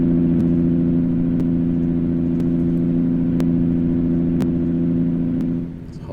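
A 19-litre Cummins KT truck engine in American Truck Simulator drones at steady revs while heavy hauling, a loud even low hum that eases off slightly at the end.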